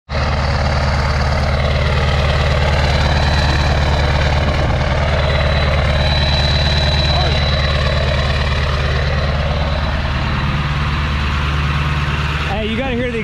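A Ford Super Duty 7.3 diesel truck idling high close by, a loud, steady exhaust drone from the back with a thin turbo whistle riding above it, ending in a brief shuffle.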